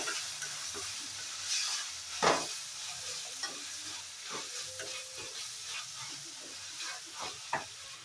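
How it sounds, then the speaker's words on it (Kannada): Turmeric powder fries in a pan for avalakki chitranna while a spoon stirs it, giving a soft continuous sizzle with scattered scraping clicks and a few louder stirring knocks. No voices are heard. "ಅರಿಶಿನ ಪುಡಿ ಹಾಕ್ಕೊಂಡು ಫ್ರೈ ಮಾಡ್ಕೊಳ್ಳಿ."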